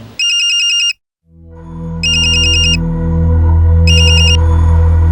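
A mobile phone ringtone sounds in three short, bright electronic bursts separated by pauses, loud and near, while a low droning music bed swells underneath in a TV crime drama scene.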